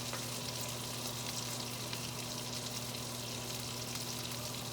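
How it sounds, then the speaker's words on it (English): Spam fries in a pan beside bacon, giving a steady, close, even sizzle with a constant low hum beneath it and no talking. "I want to let that Spam cook up"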